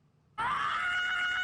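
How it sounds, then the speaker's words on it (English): An ostrich lets out a sudden loud, shrill scream that starts abruptly after near silence and holds steady at close range for over a second. "I had to hear the ostrich scream."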